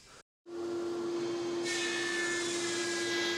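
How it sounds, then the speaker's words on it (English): A power sander works soft salvaged pine for a media unit, starting after a brief silence and then running as a loud, steady, close whine with a brighter hiss of abrasion building partway through. "Now I'll have to sand this out because I don't like how it looks."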